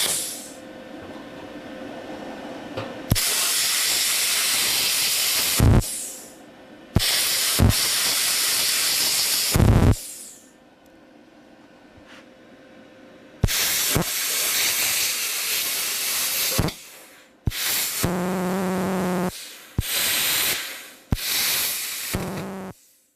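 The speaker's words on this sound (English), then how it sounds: "it's cutting the sheet metal easily, but the torch is going out at times" A Vevor CUT50P plasma cutter set to its minimum 21.2 amps cuts painted sheet metal siding: loud, steady hissing blasts that repeatedly stop and restart as the torch goes out, leaving short quiet gaps between bursts.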